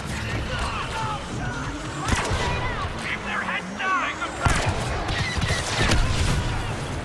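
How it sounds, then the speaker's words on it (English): Blaster gunfire in the Star Wars Battlefront II video game as stormtroopers are shot, with repeated zapping shots and booming impacts over a dense battlefield din; someone talks over it. "it's so fun shooting stormtroopers"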